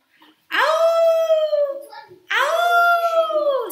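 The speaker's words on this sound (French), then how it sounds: "C'est le chant des loups." Wolves howl in a pack on a mountaintop at night, two long rising-and-falling howls heard close and loud, the second starting after a short gap, with faint quiet sounds between them.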